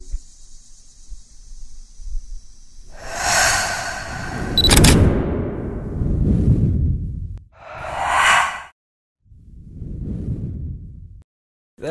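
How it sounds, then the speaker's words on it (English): Whoosh transition sound effects sweep through in several loud swells, some with bright airy swishes and deep rumbling tails, one after another with short gaps between. "it'll go away in between this whoosh sound effect there"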